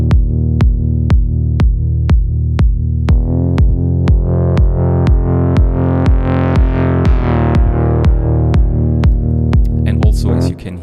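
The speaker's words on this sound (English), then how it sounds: "it ducks away a little bit from the kick drum, and both elements then sound like this" A sustained electronic synth pad ducks rhythmically under a steady four-on-the-floor kick drum, pumping in volume with each beat, with reverb and delay adding a washed tail and a brighter swell in the middle of the loop.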